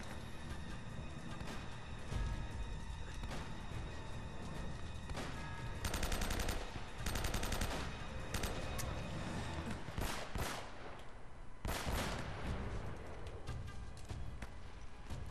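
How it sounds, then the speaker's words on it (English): Gunfire from the shooter game Uncharted: Drake's Fortune, in The Nathan Drake Collection: dense bursts of rapid automatic shots and single cracks, loud and close, coming in clusters over a continuous battle din. "Who the fuck else is shooting at me?"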